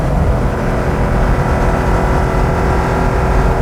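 A 1970 Porsche 914-6 GT flat-six engine revving hard, a loud continuous dense roar held steady for a few seconds, close and alone without talk.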